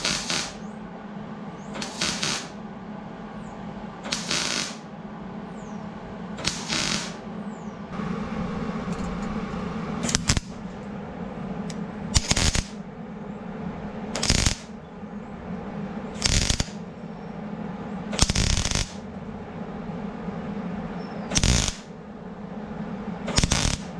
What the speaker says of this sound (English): I think we'll just finish welding that thing up